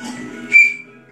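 A toy whistle gives one brief, sharp, high-pitched toot that lasts about a sixth of a second. It sounds up close and stands out over a low background murmur.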